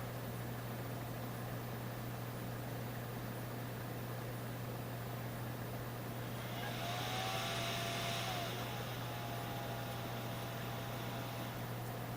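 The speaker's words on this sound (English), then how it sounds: "The video card's just revving up." A graphics card fan spins up as a desktop PC with a Ryzen 9 3900X powers on. A steady low electrical hum runs throughout, joined midway by a brief rising whir that then settles back.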